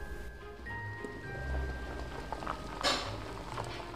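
Water boiling in a covered pot of sweet corn, a soft continuous bubbling and patter under faint background hum, with one brief louder clatter near the end.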